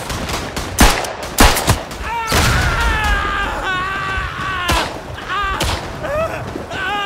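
A Lewis gun fires in the World War I shooter Verdun, sounding as sharp bursts and scattered gunfire in a trench battle, with nearby thuds and whistling tones over a constant rumble.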